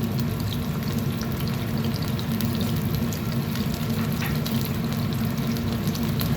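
Shrimp and asparagus stir-frying in a pan, with a loud, steady sizzle and crackle that continues unbroken from start to finish, plus the occasional faint scrape of stirring.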